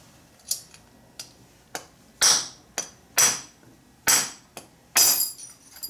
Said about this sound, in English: take a punch and a mallet and just drive that shaft right off of the gear